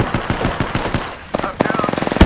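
Rapid automatic gunfire in the video game Apex Legends, loud bursts of close shots in quick rhythm, a brief pause, then another fast volley, with a voice talking over the shooting.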